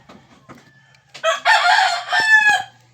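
A rooster crows once, loud and close, in a long strained call at a cockfight in the Philippines, preceded by a few faint clucks and low background noise.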